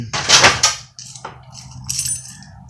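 Small vending machine money keys jangling together, a bright metallic clatter bursting loudly at first, then lighter scattered clinks and rattles over a faint low hum, with no talking.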